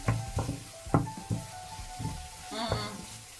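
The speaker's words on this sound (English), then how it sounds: "I'm gonna give this a quick stir." Curry powder stirred briskly in hot ghee in a pan with white beans: a soft sizzle under a quick series of close spoon scrapes and taps, about six strokes in a few seconds.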